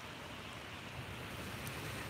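Ocean waves wash steadily onto a beach at sunrise, a soft continuous roar of surf with some wind noise, faint and even with no talking.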